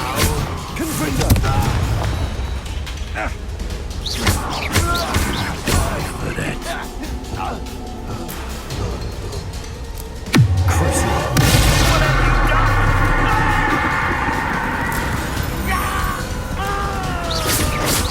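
A Confringo fire spell explodes during a Hogwarts Legacy duel, heavy booms and crashes layered with battle effects, a big blast near the middle followed by sustained roaring noise, with voices shouting over the fight.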